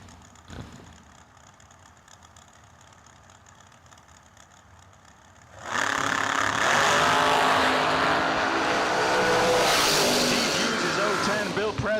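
A 2004 Diamond Dragster at a drag race: a quiet wait with faint background noise, then a sudden loud engine roar at launch that holds strong and high-pitched as the car runs down the track.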